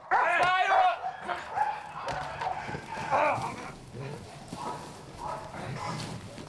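German shepherd police search dogs bark in short repeated yips amid a busy, noisy outdoor scene with voices and movement around them.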